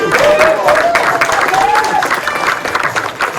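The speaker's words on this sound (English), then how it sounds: "Give him a round of applause, y'all." An improv comedy audience gives loud, sustained applause mixed with cheers and rising whoops as a contestant is brought on stage, with voices carrying over the clapping.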